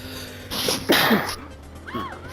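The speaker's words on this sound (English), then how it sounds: "didn't mean to sneeze in everybody's ears" A man's loud, close sneeze bursts out in a sharp double rush of breath while playing the video game Watch Dogs, followed by a short vocal sound afterward.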